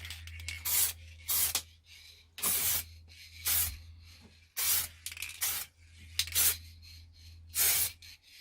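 Bursts of spray paint lay a clear coat onto a car door mirror cover, about eight close hissing passes with short pauses between them over a low steady hum.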